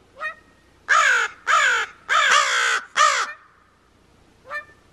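A raven calls in a run of loud, harsh croaking caws near an outdoor aviary: a short call, then four long rasping caws in quick succession, and one more short call after a pause.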